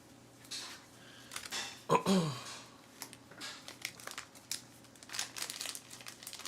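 A deck of plastic-sleeved cards for the Aeon's End board game is shuffled up close, producing crinkly, slippery rustles and a sharper slap, then a run of quieter shuffling bursts.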